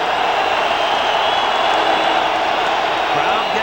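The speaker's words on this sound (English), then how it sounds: "Crowd getting into it now." A packed football stadium crowd at Michigan versus Ohio State roars in a steady, dense wash of cheering that holds at full volume throughout, with a commentator's voice talking over it.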